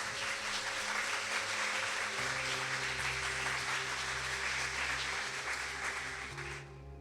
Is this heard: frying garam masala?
no